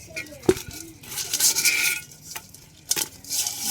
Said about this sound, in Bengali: এবার আমি কাঁকড়াগুলো কেটে নেব।